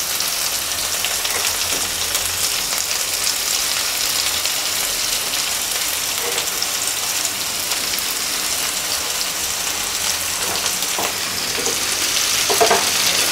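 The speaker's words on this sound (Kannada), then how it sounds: "ಸೊ ಟೊಮೊಟೊನ ಫುಲ್ ಫ್ರೈ ಆಗೋ ಥರ ಹುರ್ಕೊಳ್ಳಿ." Tomatoes fry in a pan with a steady, dense sizzle that holds evenly throughout, with a few soft stirring scrapes near the end.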